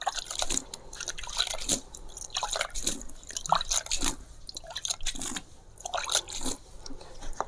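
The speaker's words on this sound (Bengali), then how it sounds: "এখানে জল দিয়ে দেব একদম ভরপুর করে আমি জল দেব" Water poured onto an organic fertilizer layer for a rose plant makes uneven, close splashing and dripping that continues steadily without talk.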